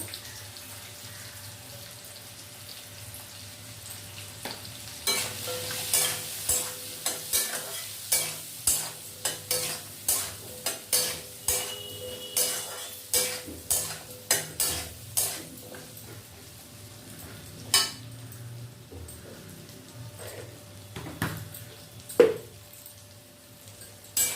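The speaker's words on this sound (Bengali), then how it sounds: "আলুটা এদিকে ভাজা হতে থাক" Salted, turmeric-coated potatoes sizzle steadily in a pan while a spatula scrapes through them in a quick, regular rhythm of repeated strokes, then slows near the end.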